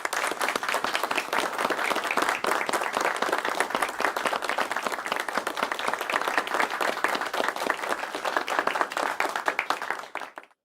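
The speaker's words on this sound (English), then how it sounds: "Yeah, certified claps." An audience claps and applauds steadily for about ten seconds, a dense, even patter of many hands that cuts off abruptly at the end, with no talk over it.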